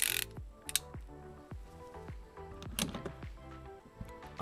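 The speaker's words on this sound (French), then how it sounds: "au cliquet" A ratchet wrench with a 16 mm socket loosens a nut on the rear chassis strut brace of a Renault Clio, giving close, rhythmic bursts of sharp clicking strokes with short pauses between them.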